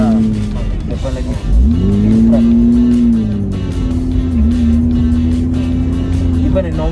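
A Porsche 986 Boxster engine roars continuously while driving, its pitch rising and falling slightly with throttle, loud and close throughout.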